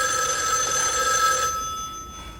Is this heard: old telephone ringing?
yes